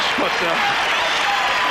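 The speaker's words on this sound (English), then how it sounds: "the crowd is cheering here for the Bulls right now, and the Pistons as they leave the court" Arena crowd at a 1991 NBA playoff basketball game cheering as the Pistons leave the court, a broad, steady roar and applause from a large audience under a commentator's voice.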